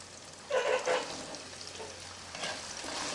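Sliced onion hitting hot oil in a pan for a chicken curry, with a brief surge of sizzling followed by a steady low frying hiss, quiet and close, with no voices.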